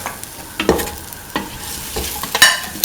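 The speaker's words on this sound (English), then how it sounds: "Mix. Thoroughly mix." A spice mixture is stirred into okra and chickpeas in a pan, with a spoon scraping in repeated short strokes over a soft, low sizzle.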